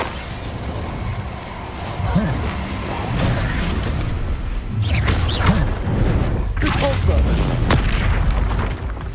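Expulso spell explosions in Hogwarts Legacy, a heavy booming blast followed by further rumbling bursts and crashes, with a voice calling out over the combat.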